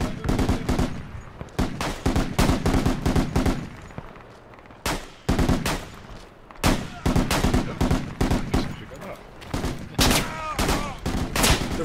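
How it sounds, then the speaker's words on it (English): Rapid bursts of gunfire in the military shooter game Project Reality, loud and close, with clusters of automatic shots and single cracks repeating throughout amid battlefield noise. "I'm gonna take a couple shots out"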